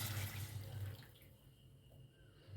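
Water, 600 ml of it, is poured into a hot pan of oil-fried peas and vermicelli for a kichadi, a soft rushing splash that fades into a quieter simmering hiss.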